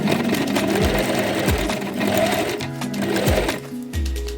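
A sewing machine stitches fabric pieces of a soft toy fish, running loud and close with a rapid mechanical whir and a few brief pauses and restarts between seams.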